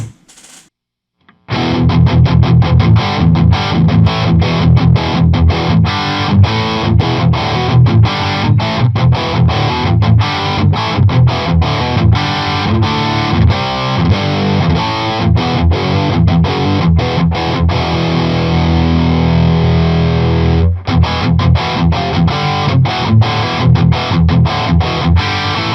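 Electric guitar played through a Friedman BE100 amp with its FET switch engaged, into Vintage 30 and G12T-75 speakers: a loud, continuous distorted riff with rapid picked chords and one brief pause, played with no talk.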